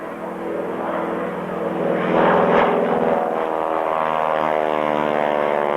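A Trojan propeller aeroplane flies past at a 1998 Cranfield airshow. It makes a steady, loud droning engine note with a buzzing propeller tone that swells and holds throughout.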